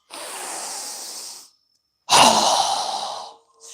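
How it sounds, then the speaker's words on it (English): Deep breathing during a yoga session: a long steady inhale, a pause of silence, then a strong forceful exhale through the mouth that fades out, with a faint start of another breath. "exhale through our mouth with a strong breath"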